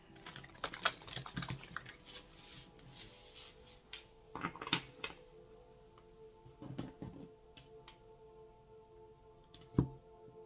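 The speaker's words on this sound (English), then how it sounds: "One last shuffle here before we cut the deck." A deck of cards is shuffled close by: soft riffling, rubbing and clicking in irregular bursts, fairly quiet, with no talking.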